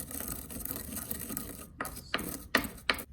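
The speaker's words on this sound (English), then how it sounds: "I will crush these coriander seeds a little bit before I add them" Coriander seeds are coarsely crushed by hand in a kitchen, giving a close gritty rubbing and grinding. The sound ends in a few sharp, separate crunching strokes, with no talking.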